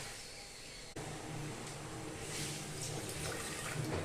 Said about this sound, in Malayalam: ഇനി കുറച്ച് വെള്ളം കൂടി ഒഴിച്ചു കൊടുക്കണം.